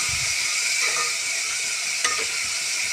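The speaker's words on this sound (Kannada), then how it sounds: "ಈ ಥರ ಫ್ರೈ ಮಾಡ್ಕೋಬೇಕು ಒಂದು ಫೋರ್ ಮಿನಿಟ್ಸ್ ಫೈವ್ ಮಿನಿಟ್ಸ್ ಗಂಟ ಫ್ರೈ ಮಾಡ್ಕೋಬೇಕು" Chunks of bottle gourd frying in ghee in a pan, a steady close sizzle and hiss throughout with a light scrape of stirring near the middle.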